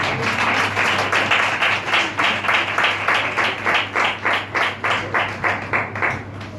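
A congregation at a Sunday Holy Communion church meeting claps in steady unison, a regular beat of crisp hand claps repeating about three times a second, moderately loud and without talk.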